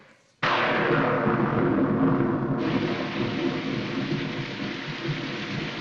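Heavy rain hisses steadily while a deep thunder roll rumbles and slowly fades, loud and close, with no voices.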